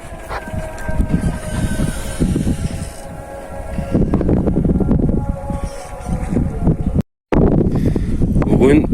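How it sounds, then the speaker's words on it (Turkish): Gusting wind rushes across the microphone, with rumbling and a voice speaking intermittently beneath it, briefly cutting out near the end. "Çok güzel rüzgar var arkadaşlar. Püfür püfür esiyor."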